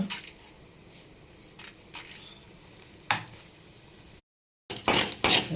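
Urad dal goes into hot oil in a kadai with light crackling and clinking, then a short silence, then a louder burst of sizzling and rattling.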